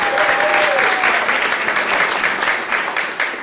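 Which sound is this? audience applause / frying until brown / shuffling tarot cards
audience applause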